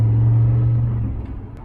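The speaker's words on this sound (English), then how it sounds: "Wow, the car takes off good though." A turbocharged notchback car pulls away hard, its low engine drone steady and loud at first, then fading slightly as it moves off, with no talk over it.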